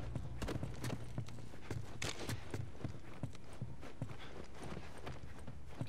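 Rhythmic clip-clop of horse hooves in the video game The Last of Us Remastered, steady and fairly close, layered over a constant background bed with no talking.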